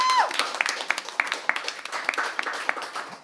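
A studio audience at a comedy game show applauds with scattered claps, fairly near and moderately loud, over a few seconds; a brief tone sounds at the start.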